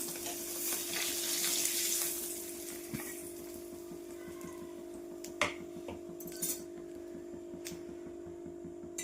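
Paneer frying in a pan, a soft continuous sizzle and crackle under a steady background hum, with a few sharp clicks and taps scattered through.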